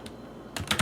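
Typewriter-style text sound effect from a video game, a few soft quick clicks near the end after a quiet, faint start.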